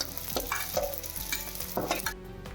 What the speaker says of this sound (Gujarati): આપણે આ થોડા ઘીમાં જ તળવાનો છે, એટલે 3 વખતે હું આ 50 ગ્રામ ગુંદને તળવાની છું